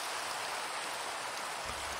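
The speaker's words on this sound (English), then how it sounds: "And it's starting to rain." Rain falls in the Minecraft video game, a steady, even hiss of dense drops that holds constant throughout, with no voices over it.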